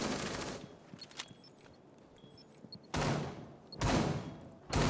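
Gunfire bursts from a Rainbow Six Siege replay: short sharp volleys open and close the stretch, loud and close, with quieter scattered shots and thuds in between and no talk.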